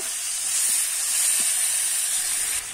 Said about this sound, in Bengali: এইভাবে আমি কিছুক্ষণ ধরে কষিয়ে নেব।